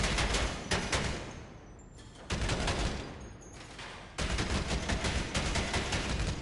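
Rapid weapon fire rings out at a GTA Online bunker shooting range, with loud, close bursts of shots in three volleys separated by short gaps. The firing stands alone.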